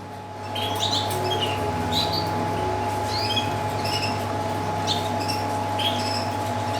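Gloster canary birds give short scattered chirps and tweets over a constant mains-like hum, the calls light and intermittent, spread through the whole stretch without talk.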